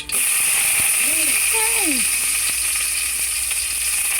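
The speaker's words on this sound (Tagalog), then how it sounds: "lalagay natin yung bawang" Garlic sizzles in a small amount of hot cooking oil, a steady, loud hiss throughout with faint clinks from a utensil.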